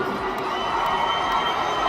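A crowd of fans at a Taylor Swift–themed event screams and cheers continuously, a dense, loud wall of shouting voices with high-pitched whoops, steady for the whole stretch.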